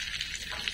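Ghee sizzling with gram flour (besan) in a pan for besan ladoo, a steady close frying hiss throughout the short moment with no talk.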